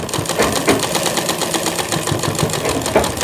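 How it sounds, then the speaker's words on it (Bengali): An electric sewing machine stitching a shirt, a fast steady mechanical whirr with even rapid needle clatter, close and continuous for a few seconds, no voices. "তো আমি এখানে একটা সেলাই দিয়ে দিলাম"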